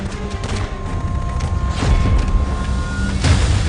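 Rapid gunfire cracks and heavy booms from a Naxalite ambush on CRPF troops, over a rumbling, noisy background, with a couple of sharper bursts standing out.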